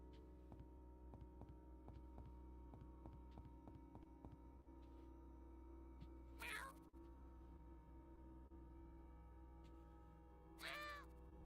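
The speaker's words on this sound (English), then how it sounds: "Cat." A cat in the video game YIIK meows twice, with two brief, separate calls several seconds apart over a steady low hum and soft tonal background.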